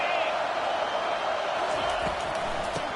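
A football stadium crowd roars steadily behind the defense on third down, a dense, even wall of noise with a commentator's voice running over it.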